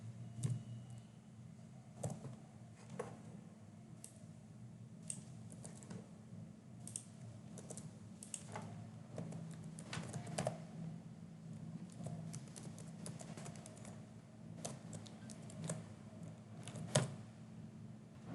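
Quiet typing on a computer keyboard, irregular soft key clicks and taps spread over a steady low hum, with no talking.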